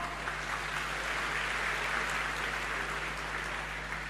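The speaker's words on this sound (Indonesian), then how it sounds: "Tepuk tangan buat Medan" A crowd in a hall claps continuously and evenly for Medan at a dharma talk, a steady wash of applause with a low electrical hum underneath and no voices.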